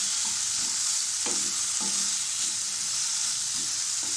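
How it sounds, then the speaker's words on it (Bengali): Potatoes frying in a pan over a medium flame, a loud, even sizzle throughout with a few brief stirring clinks and scrapes on top. "মিড ফ্লেমে রেখে আলুগুলোকে আমি 2-3 মিনিট একটু ফ্রাই করব যাতে একটু নরম হয়ে যায় আলুগুলো।"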